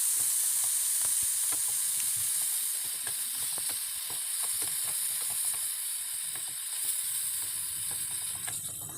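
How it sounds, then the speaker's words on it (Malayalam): Grated carrot fries in a pan for a carrot pudding, giving a steady close sizzle and hiss with scattered crackles and occasional scraping stirs. "ഈ ക്യാരറ്റ് ഗ്രേറ്റ് ചെയ്തിട്ടിട്ട് നല്ല വറുത്തെടുക്കാം."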